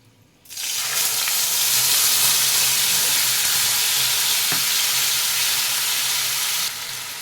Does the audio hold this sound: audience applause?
no